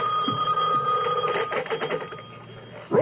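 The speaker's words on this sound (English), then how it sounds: "the phone was ringing." Telephone ringing as a radio drama sound effect in a live theatre production, a steady ringing tone with rising and falling bursts that sounds close and fairly loud and ends as a voice begins at the very end.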